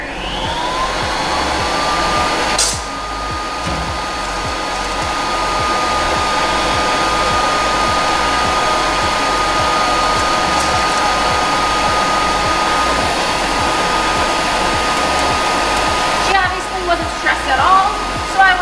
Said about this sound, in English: doesn't mean that they're going to like the blow dryer. So we're just going to put it on a low speed to start off with.